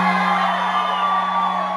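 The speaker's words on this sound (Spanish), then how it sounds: "El que se siente orgulloso de ser mexicano, que le pegue un grito chingón" Concert crowd at a Mexican music night in Nashville roaring with shouts and whoops, a dense, loud, sustained wall of yelling voices with no break.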